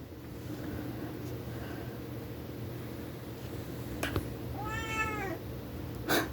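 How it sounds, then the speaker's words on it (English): A Maine Coon cat gives a single clear, drawn-out meow near the end, preceded by a quiet steady indoor hum and a couple of short taps. "She's a Maine Coon. She's very expressive."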